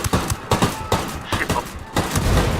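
Rapid bursts of gunfire in Ghost Recon Wildlands ring out at a freight yard guarded by Sicarios, with sharp, loud shots repeating in irregular clusters about every half second.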